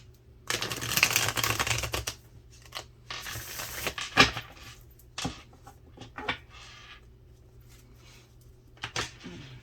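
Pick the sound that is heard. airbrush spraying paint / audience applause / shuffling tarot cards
shuffling tarot cards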